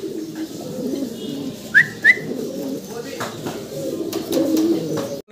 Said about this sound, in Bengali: দর্শক আমরা ভিডিও স্ক্রিনে দেখতে পারতেছি এক পেয়ার পটার